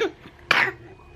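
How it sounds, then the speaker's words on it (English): A child gives a few short, raspy coughs up close, two or three bursts separated by brief pauses. "He's just been coughing."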